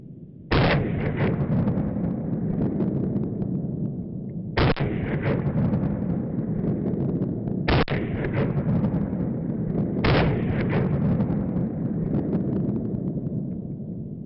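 Four pistol shots are fired at a target, each a loud sharp crack spaced a few seconds apart, over steady wind and background noise.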